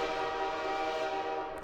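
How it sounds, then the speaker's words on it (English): A steady, sustained video game train horn from a Minecraft 1.12.2 mod blares loudly and continuously, its rich layered tones holding at a constant pitch throughout the short stretch. "It has a little train horn to it."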